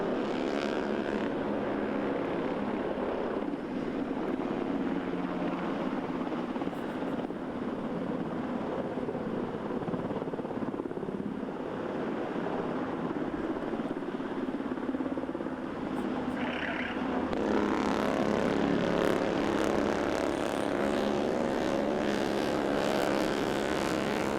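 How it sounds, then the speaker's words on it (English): An MH-60 Black Hawk helicopter's steady, heavy rotor and engine roar fills the air without pause, swelling louder and brighter toward the end as it draws nearer. "an MH-60 Black Hawk helicopter will helocast personnel into the channel"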